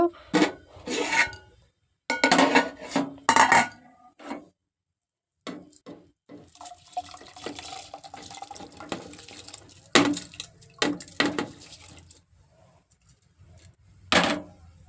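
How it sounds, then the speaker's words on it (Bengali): Washed rice is tipped into a cooking pot with water, giving bursts of wet grainy rasping and pouring, separated by short silences; no voices. "এই চালগুলো এখন আমি হাঁড়িতে তুলে দেব"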